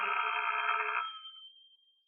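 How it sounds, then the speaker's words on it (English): A telephone rings as a radio drama sound effect, one loud continuous electric bell burst lasting about a second, then cutting off and leaving a thin fading tone in quiet surroundings. "I went home and waited for the phone to ring."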